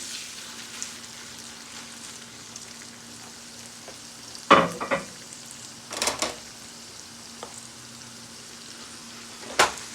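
Onion frying in a Pioneer Woman cast iron skillet seasoned with a little oil, giving a soft, steady sizzle broken by three louder bursts of scraping and clatter.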